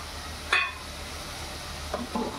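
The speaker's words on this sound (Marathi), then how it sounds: "मी याच्यात टोमॅटोची पेस्ट टाकते।" Tomato paste fries in hot oil over onions while being stirred, with a faint steady sizzle and a few brief scraping clinks.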